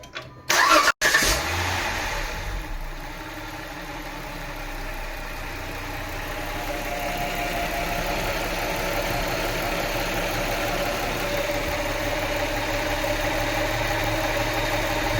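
A Chrysler 300 engine, just back from a manifold gasket replacement, cranks briefly and catches, then settles into a steady, close idle that runs unbroken to the end, with no voices.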